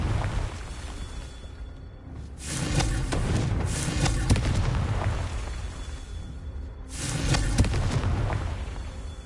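Two Confringo explosion spells go off in a Hogwarts video game, each a loud booming burst several seconds apart over a constant rumbling background.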